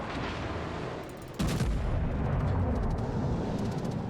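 Anti-aircraft guns in World of Warships fire steadily as a dense, rumbling barrage that jumps louder partway through and keeps pounding, with no voices over it.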